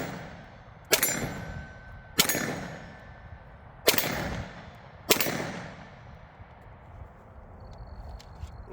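Pistol gunshots while emptying a magazine: four sharp, loud reports spaced about a second or more apart, each with a ringing outdoor decay, followed by quiet.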